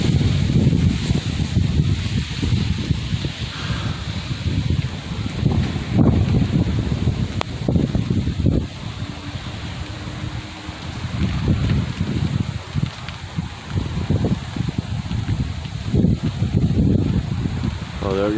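Strong, gusting wind from a microburst storm roars and buffets the microphone in loud, continuous surges, with heavy low rumbling throughout and a person speaking briefly over it.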